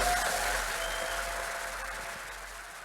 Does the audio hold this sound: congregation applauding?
yes